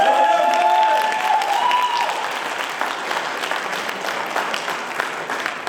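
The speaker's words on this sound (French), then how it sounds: "on peut les applaudir aussi très très fort" A crowd at a debate competition final applauds loudly, a dense steady clatter of clapping that holds throughout and fades only slightly toward the end.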